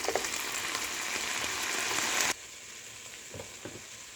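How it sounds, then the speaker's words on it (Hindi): Steady, busy sizzling of meat with whole spices frying in hot oil, loud and close, cutting off abruptly midway, followed by a few soft stirring knocks. "गोश्त को जो है मैंने 2-3 मिनट तक भूना है।"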